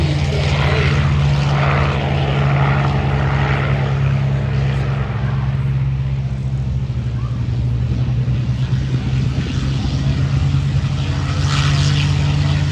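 A rare P-51 Mustang propeller plane from the Palm Springs Air Museum drones steadily at a California airshow. Its deep engine hum holds for a long stretch against a faint wash of crowd and open-air noise.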